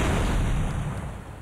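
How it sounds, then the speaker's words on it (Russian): A car explodes in the video game GTA Vice City, a deep, loud boom and rumble, its roar fading out over about a second and a half. "Первым делом взорвать машину."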